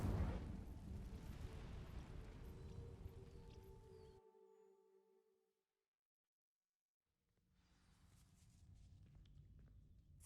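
An Incendio fire spell in Hogwarts Legacy sets dry vines ablaze with a loud, roaring whoosh of flame that fades to silence, then a low ambient rumble returns.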